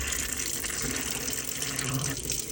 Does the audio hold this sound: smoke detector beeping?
no